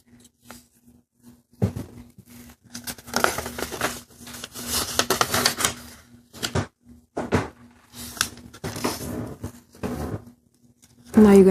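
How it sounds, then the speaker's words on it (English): Square sheet of origami paper, six by six inches, being folded and creased by hand into an elephant, giving close crinkly rustles and sharp creasing bursts in uneven runs, with a short low hum near the start and brief pauses between folds. "Now you're going to fold this folded edge to the middle crease."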